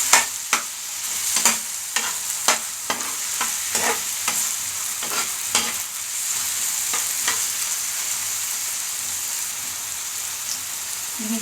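Ground beef with tomato is stirred in a frying pan, with a series of sharp scraping stirs over a constant sizzle during the first half, then a steady, unbroken frying hiss.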